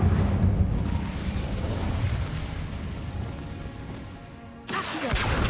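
An Incendio fire spell is cast in Hogwarts Legacy with a loud whooshing, roaring burst that slowly fades. A sharp new crash follows near the end.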